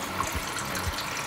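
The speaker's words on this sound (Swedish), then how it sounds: "The spray test is where we can demonstrate the influence of water dropping off the surface" Water sprayed onto Gore-Tex fabric in a spray test, a steady hissing, splashing patter of droplets at close range, moderately quiet and with no talking.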